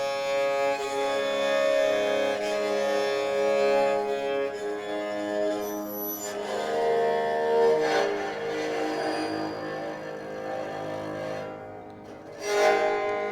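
Long bowed notes on the fourth string of a bass dilruba drone with buzzing harmonics, rising and easing across several slow strokes, heard up close and alone.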